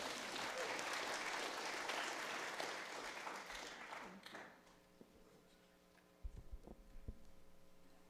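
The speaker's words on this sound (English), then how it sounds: "We can clap." Congregation applause at an Erev Shabbat evening service welcoming a guest speaker, a loud dense burst of clapping that fades out after about four seconds, leaving quiet room hum and a few faint thumps.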